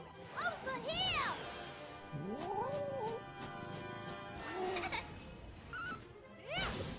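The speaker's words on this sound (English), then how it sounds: "It summons an adorable cat, and they get to use their like limit break ability." Video game cat from Dragon Quest 7 Reimagined meows several times in rising and falling cries amid battle effects and game music, with a person talking over parts of it.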